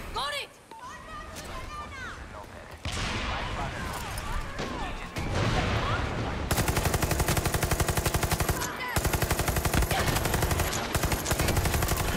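Rapid SMG bursts from Far Cry 6, dense automatic fire that grows louder and steadier toward the end, with layered shots and impacts throughout.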